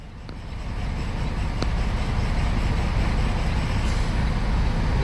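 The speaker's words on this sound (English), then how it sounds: "So many trucks." Truck engines rumble steadily at a busy trucking company yard full of trucks, a loud continuous low roar that builds slightly at the start and holds, with no talk.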